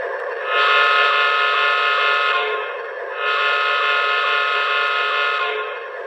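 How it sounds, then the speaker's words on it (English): A Menards O gauge model train horn on a Union Pacific engine blasts twice, each a loud, steady, harmonically rich tone lasting about two seconds, separated by a short gap. "Okay, here's the horn."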